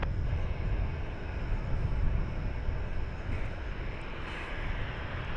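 An American Airlines jet on takeoff roll from runway 18 left at Dallas Fort Worth airport, a steady broadband engine roar holding at a constant distance throughout, with no voices.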